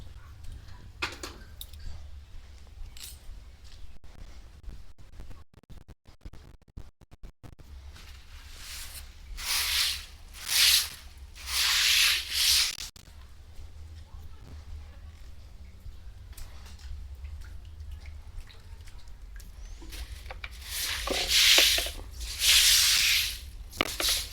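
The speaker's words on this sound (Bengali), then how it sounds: "ঝাঁটাটা নিয়ে এসে একটু ঝাঁটটা দিয়ে দিই" A broom sweeps a floor in scratchy, brushy strokes, with louder bursts arriving in uneven bunches against a quiet room, with no talking.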